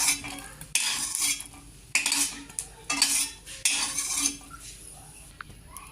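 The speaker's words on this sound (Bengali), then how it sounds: "লঙ্কা ভাজা হয়ে গেছে, এখন আমি লঙ্কাগুলোকে নামিয়ে নেব।" A spatula scrapes and clatters against a pan to lift out dry-roasted green chillies, making about five rhythmic scraping strokes roughly a second apart, close and moderately quiet, with no talking.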